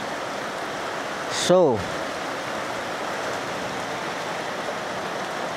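Heavy rain pours in a steady, dense hiss throughout, with a brief voice cutting in near the start.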